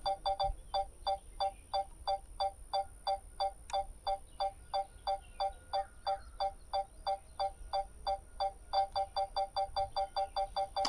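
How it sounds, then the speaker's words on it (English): Steady electronic beeping repeats about twice a second, a thin insistent tone that runs unbroken and fairly clear outdoors near muddy drainage, with no talk over it. "I hope y'all can't hear that beeping, because that's going to be very annoying."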